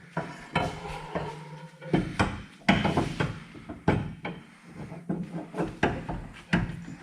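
A 35 spline axle goes into the rear end of a turbo Mustang with a string of metallic clunks, scrapes and knocks at an irregular rhythm, close by and fairly loud.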